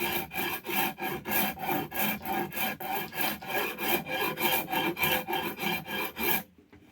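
A two-sided rasp works lightly over a hand-carved ash axe handle in about twenty quick, even back-and-forth rasping strokes, close and clear, ending in silence.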